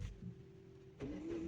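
A Hyundai i20 engine cranks and catches after a low steady hum, a sudden burst followed by a rising tone as it settles into idle, heard close and fairly quiet.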